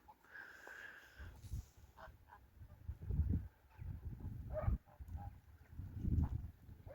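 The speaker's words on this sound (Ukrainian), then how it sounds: "Вони і так уже починають гігати і збиратися додому." Domestic geese in a large farmyard flock, including a crested grey goose, give scattered honking calls at moderate distance, with intermittent thumps and low rustling between the calls.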